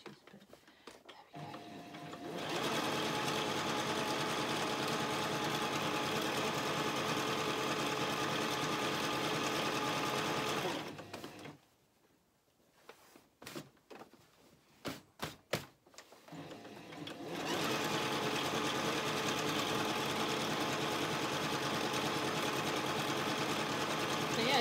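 Sewing machine top stitching around a petal dress, running in two long steady bursts with a quiet pause of small handling noises between them, close and loud.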